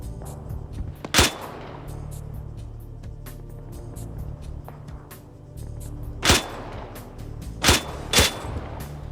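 Explosions in a video game raid, a sharp isolated blast early, then three more bursts later, over a steady low rumble with scattered clicks.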